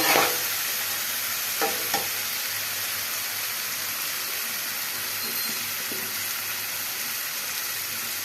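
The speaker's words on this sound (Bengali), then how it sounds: "এবার মশলাটাকে আমাদের ভালো করে কষিয়ে নিতে হবে" Masala with ginger and green chili sautéing in a pan, a loud, even hiss of frying that runs throughout, with a couple of brief spatula scrapes near the start.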